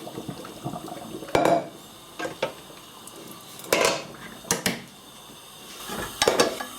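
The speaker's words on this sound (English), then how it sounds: "Just going to pop this in this colander here. Let that drain off." Cooked pasta tipped from a pot into a colander to drain for a warm pasta salad: several splashy pours and metallic clanks spaced across the clip, close by, with no talk.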